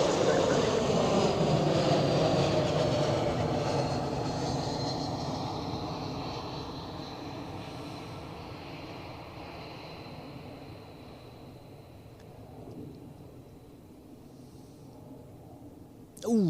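An Air Baltic airliner landing at Zurich Airport, a loud steady jet engine roar that slowly fades as it passes, with a whining tone and a brief thump near the end.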